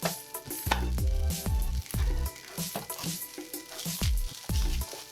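Rice, for shrimp fried rice, sizzles steadily in a hot pan, with repeated scraping and stirring strokes breaking up clumps in an irregular rhythm, close and loud.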